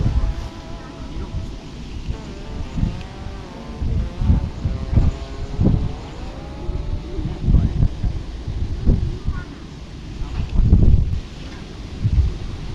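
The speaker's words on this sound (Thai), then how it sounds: "ลมนะครับ" Strong gusts buffet the microphone beside a fishing pond in Phetchabun, Thailand, producing a loud, rumbling low roar that surges and fades in uneven pulses. A voice talks intermittently under the wind.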